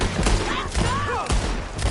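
Gunfire in a shootout in the video game Red Dead Redemption 2, with loud, dense bursts of shots and a rising whistle-like sweep over a constant rumbling mix, all close and continuous.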